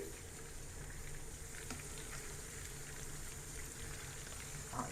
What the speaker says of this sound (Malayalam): വെളിച്ചെണ്ണയിൽ ഇങ്ങനെ ചിക്കനൊക്കെ ഇട്ടിട്ട് ഇങ്ങനെ ആ ഈ ഒരു ഇളകിന് ഒരു ശബ്ദം ഉണ്ടല്ലോ